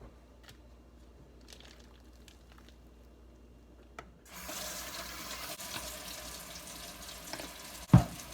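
A kitchen tap is turned on for hand washing, quiet clattering first, then water suddenly gushes into the sink in a steady rush, ending with a sharp knock.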